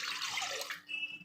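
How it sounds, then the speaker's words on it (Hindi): Water poured into a cooking pot for minced meat, a short splashing rush that stops quickly, leaving a faint ringing trickle. "सबसे पहले मैं इसमें पानी डालूँगी।"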